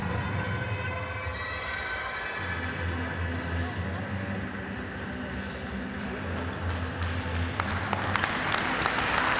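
Handball arena crowd applauding an injured player as she is carried off, sustained clapping and crowd noise mixed with a commentator talking over it.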